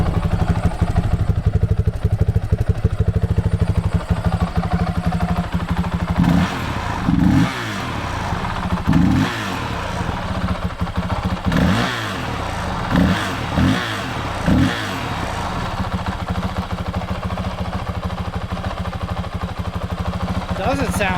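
A Honda CRF 450 RL dirt bike with its stock exhaust and a GET ECU idles steadily nearby with a rattly clatter. It is blipped through a quick series of sharp throttle revs in the middle, then settles back to idle.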